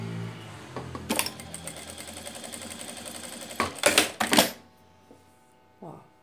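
A sewing machine stitches a small fabric coin purse, a close, rapid mechanical whirring burst that runs for a few seconds, then several shorter stitching bursts, then quiet handling sounds, with a voice speaking briefly.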